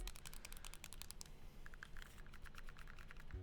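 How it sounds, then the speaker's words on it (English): Clicky shoulder trigger buttons (L1, R1, L2, R2) on a Helegaly Action Pi budget handheld console, pressed repeatedly in quick, light clicks close to the mic. "The triggers on the top, you've got L1, R1, L2, R2. These are all clicky"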